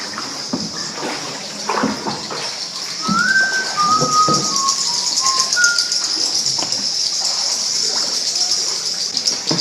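Busy chirping and twittering of many birds flying in a cave in Puerto Princesa, Palawan, echoing in the enclosed space, with a few clear whistled calls over a hollow, reverberant background.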